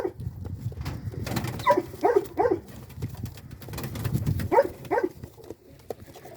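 Gökperçem pigeons coo nearby in short bursts of throaty, rolling calls, one cluster in the middle and another near the end, over a low background murmur.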